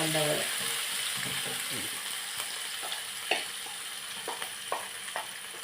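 Chopped shallots, green chili, garlic and ginger sautéing in a pan, a steady broad sizzle with sparse scrapes and clicks of a spoon stirring, close and moderately loud, no talking.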